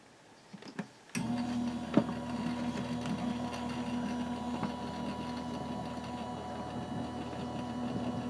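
An Anna Griffin Empress die cutting machine runs as a 3D embossing folder fails to feed through, giving a steady close motor whir with a few faint clicks and ticks after an abrupt start.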